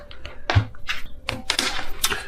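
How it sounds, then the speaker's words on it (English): A deck of tarot cards is shuffled by hand up close, giving a quick series of crisp papery riffles and slaps in uneven bursts. "just a few shuffles and then I'll cut the deck."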